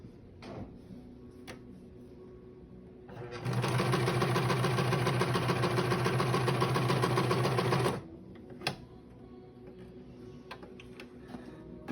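Sewing machine stitching a 3/8 inch seam on patchwork quilted purse fabric: a loud, steady mechanical whir for about four seconds between quiet handling clicks and taps.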